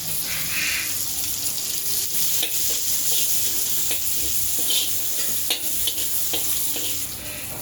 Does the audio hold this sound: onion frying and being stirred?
yes